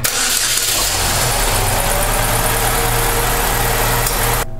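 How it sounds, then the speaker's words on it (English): A Saturn Ion 2.2L engine cranks and fires after a spark plug change, then settles into a steady, loud idle with a low hum and broadband mechanical noise that holds until it cuts off abruptly at the end. "Alright, I'm going to fire this thing up now"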